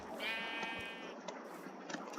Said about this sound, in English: little sheep baby.